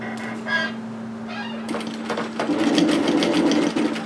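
A sewing machine stitches pleats in place through the seam allowance of a shacket, starting with a couple of short bursts before running steadily and loudly up close, with no talk.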